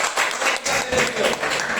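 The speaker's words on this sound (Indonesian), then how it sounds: "Oke, berikan tepuk tangan." Classroom applause fills the short stretch, a dense steady patter of many hands clapping at once, fairly close and continuous with slight swells, with no talk over it.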